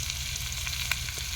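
A large fish fries in coconut oil in a pan, giving a steady, close sizzle that stays even and continuous from start to end with no voices.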